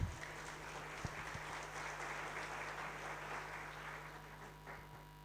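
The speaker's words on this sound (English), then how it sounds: "So if you can clap for these all guys," Faint, distant applause from an audience at a GDG Cloud Pune tech meetup, a steady soft patter of clapping lasting several seconds over a low electrical hum, with no voices.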